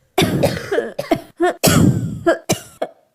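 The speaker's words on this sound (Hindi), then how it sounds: "खांसी अब कैसे ठीक होगी" A rapid string of harsh, close-up coughs, about eight bursts in a row with short gasping pauses between them.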